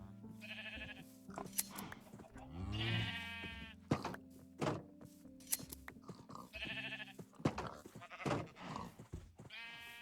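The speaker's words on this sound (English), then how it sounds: "should be able to shear these sheep again to some extent" Sheep in the Minecraft video game bleat several times in short, wavering calls scattered among soft thumps and clicks, fairly quiet with no talking.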